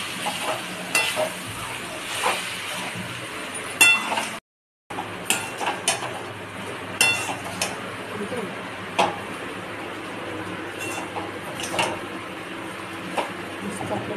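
Poha being stirred in a pan with salt and sugar for kanda poha, giving a steady run of soft scraping and clinking from the spoon at close range under a light cooking sizzle.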